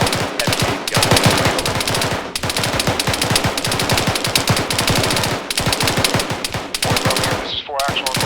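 A heavy gun fires in a military simulation video game, loud and close in long rapid bursts that run almost nonstop, with brief gaps between volleys.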